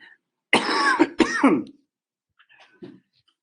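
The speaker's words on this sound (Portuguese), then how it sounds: "eu sei que é chato a tosse" A couple of harsh throat-clearing coughs close to the microphone, followed by a softer faint cough after a pause.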